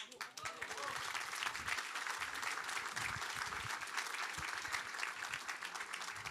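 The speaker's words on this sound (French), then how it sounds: "vous applaudissez des réverbères" A political rally crowd in Paris breaks into sustained, dense applause, steady and loud for the whole stretch, with scattered voices and cheers mixed into the clapping.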